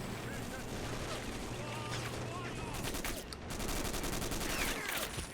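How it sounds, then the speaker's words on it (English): Machine gun fire rattles in the World in Conflict strategy game during a battle with military vehicles, heard as faint, dense, crackling bursts mixed with distant explosions under a busy low-level combat din. "I guess I have a machine gun now"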